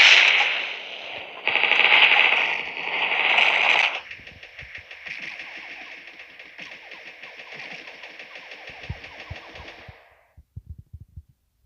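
Rapid video-game gunfire from Mini Militia, a loud burst of continuous rattling shots over the first few seconds, then a steadier stream of quieter rapid fire and a few sharp isolated bangs at the end.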